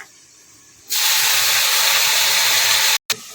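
Fresh spinach tipped into hot oil with fried dried red chilli in a pan, setting off a sudden loud, steady hiss of sizzling that holds for a couple of seconds before a brief cut, with no talking.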